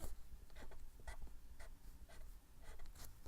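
A pen sketches a flipped cyclohexane ring structure on paper, giving short scratchy strokes in irregular bursts, close and fairly quiet.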